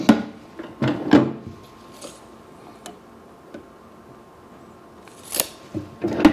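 Drawers of a Harbor Freight toolbox opening and closing, with several short sliding clicks and knocks in separate bursts, close by and moderately loud, with quiet gaps between them.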